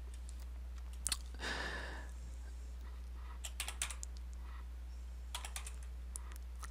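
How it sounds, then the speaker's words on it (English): Someone types on a computer keyboard, close and quiet, in short bursts of clicks separated by pauses, over a low steady electrical hum. "I'm going to type it in, actually."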